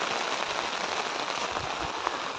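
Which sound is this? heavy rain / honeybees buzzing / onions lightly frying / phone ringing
heavy rain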